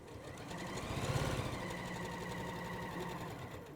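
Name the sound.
sewing machine stitching around a curve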